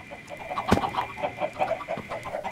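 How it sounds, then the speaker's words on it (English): A chicken in the Minecraft Skyblock video game clucks in a quick, even run of short calls, close and clear, with one sharp click early on. "how does this chicken even get to an adult stage?"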